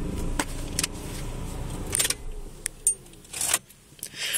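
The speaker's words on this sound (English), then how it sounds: "Let me turn my car off. I love the noise that this makes" A car engine rumbles and then cuts off, followed by keys jangling and a few scrapes and clicks inside the quiet car, close and moderately loud.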